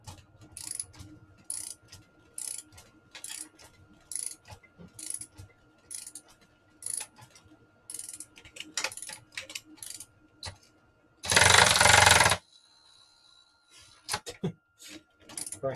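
Gears of a Ford Festiva six-speed manual transmission turn in reverse, heard as a run of close, light mechanical clicks and ratcheting ticks, broken by one loud burst of noise and a pause.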